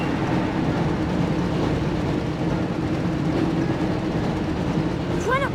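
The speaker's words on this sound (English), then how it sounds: "Looks like we found the train" A train rattling steadily along its tracks in a Harry Potter video game, a loud continuous rumble and clatter that stays constant throughout, with a brief whooshing effect at the very end.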